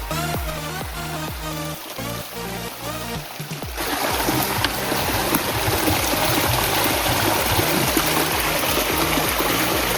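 Mountain stream flowing over rocks at a hilltop camping spot at Wangedigala in Sri Lanka, a steady close rush and gurgle of water that grows louder and fuller partway through, with no talk.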